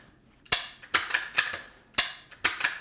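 Sharp mechanical clicks from a Ruger Precision Rimfire rifle being dry-fired during a function check, five or six crisp, loud snaps spaced unevenly and close to the microphone.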